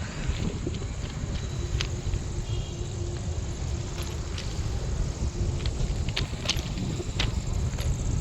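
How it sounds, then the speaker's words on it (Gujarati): Wind blowing outdoors beside an apartment building, a steady rumbling buffet against the microphone with scattered faint clicks, constant and fairly loud across the whole stretch. "બહુ સરસ પવન આવે છે."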